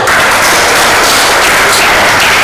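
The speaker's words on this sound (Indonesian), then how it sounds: "Kita berikan tepuk tangan" A classroom bursting into applause for a student group, a dense, loud, steady wash of many hands clapping together throughout.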